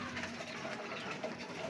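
Soft, throaty cooing from a pair of stock pigeons kept for breeding, a few low murmuring calls close by over a faint background hum.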